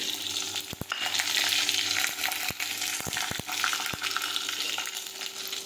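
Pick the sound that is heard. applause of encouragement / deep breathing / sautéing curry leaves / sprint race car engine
sautéing curry leaves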